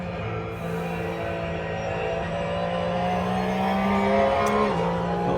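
A car accelerates around a corner during a run at the Devon County Show, its engine a loud, close, sustained droning rev that rises steadily in pitch, eases briefly, then pulls on.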